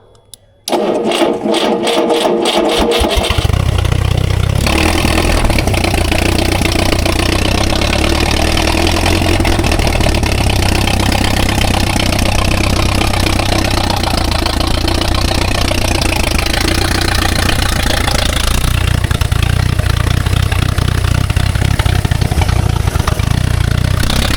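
An unusual revived engine with a leaking heat exchanger cranks briefly, catches, and settles into a loud, steady, continuous running drone close by for over twenty seconds.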